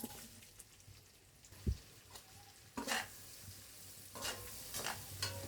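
Onions are dropped into hot oil left from frying river shrimp and sizzle faintly, with a few soft stirring knocks and scrapes in an otherwise quiet kitchen.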